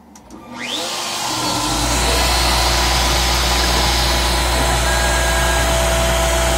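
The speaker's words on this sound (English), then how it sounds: "the CNC is doing the inside profile for the Game Boy screen" Probotix V90 CNC machine cutting the inside profile for a Game Boy screen: a steady loud drone of spindle and motor that starts up quickly and holds a constant hum with a high whine, no voices.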